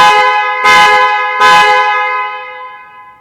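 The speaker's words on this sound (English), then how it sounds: "the vehicle will start to hoot at you so that you can find it with audio noise" A Ford F150 horn hoots three times from the key's car-locator button, loud bright blasts with a ringing tail that fades out after the last one.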